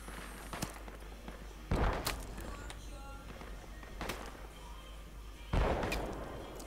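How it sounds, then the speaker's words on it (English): Gunfire in the video game Project Reality: a few loud, distant-sounding shots and booms spread over several seconds, with faint chatter and ambient noise between them. "I'm being shot at constantly."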